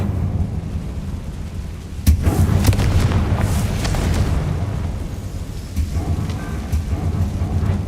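A deep booming fire-spell blast, Confringo, cast in the video game Hogwarts Legacy, rolling into a sustained rumble of crackling and debris with no talk.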